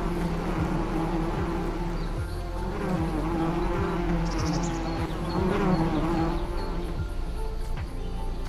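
Steady insect buzzing of bees swarming inside a bee cave in the video game ARK: Survival Evolved on the Crystal Isles map, a loud continuous drone with regular low thumps and ambient game sounds beneath.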